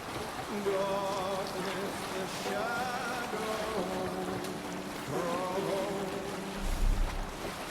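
A longship sailing on open water in Assassin's Creed Valhalla, with wind and water rushing steadily underneath while crew voices sing and talk over it.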